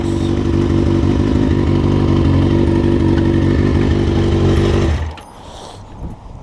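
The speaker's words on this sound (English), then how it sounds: "A couple of dirt bikes." A dirt bike engine idles loud and close with a rough, buzzing put-put, then cuts off abruptly near the end, leaving quieter ambient noise.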